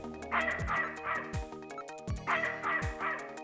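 Synthesized barking from a dog in the video game Snatcher repeats in short pairs of yips, mixed into a repeating electronic soundtrack with dropping bass notes.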